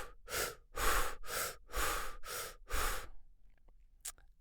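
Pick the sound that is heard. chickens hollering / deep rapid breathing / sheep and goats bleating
deep rapid breathing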